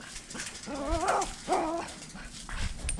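A dog whimpers and whines in two drawn-out, wavering cries close by, followed by a few fainter yelps against a background of household noise.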